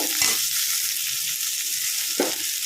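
Onions softening in a pan while preparing drumstick leaf thuvaiyal, with a loud, steady close sizzle and two brief stirring scrapes, one at the start and one near the end.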